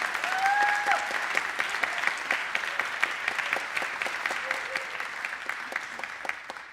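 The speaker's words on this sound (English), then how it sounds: "I would like to acknowledge them with a huge round of applause for that" Audience at a school concert band show applauding, a sustained wash of dense hand clapping that gradually thins and softens, with a brief whistle near the start.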